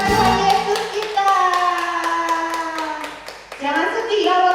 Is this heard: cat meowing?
no